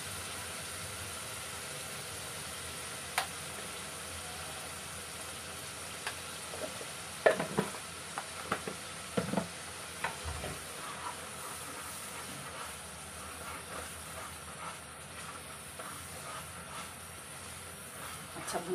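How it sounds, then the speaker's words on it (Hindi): Ginger garlic paste fries in a pan with a steady low sizzle, while a spoon stirs and scrapes in scattered clicks, fairly faint throughout. "अब हमें अदरक लहसुन का पेस्ट 1-2 स्पून डाल लेंगे।"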